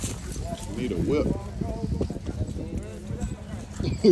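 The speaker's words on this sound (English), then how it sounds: "Come on, horse." Horse hooves clip-clop at a shooting dog handler's field trial in Georgia–Florida, a steady uneven beat close by under frequent outdoor talk among riders.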